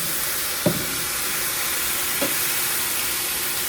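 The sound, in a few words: minced garlic being stirred in a frying pan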